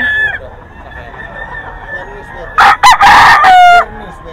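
A rooster crows loudly nearby, a single full crow after a stretch of quiet background noise and faint chatter.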